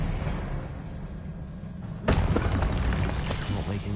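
An Expelliarmus spell is cast in a Harry Potter video game, landing as one sudden booming impact midway, after a quieter rumbling stretch, followed by a crackling, reverberant tail.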